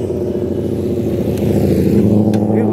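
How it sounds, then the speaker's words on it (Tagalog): Low engine rumble of a classic-style motorcycle on a city street at Somo Avenue, a steady throaty drone that swells and grows louder as it approaches and passes close by. "Ayun, ganda ng motor"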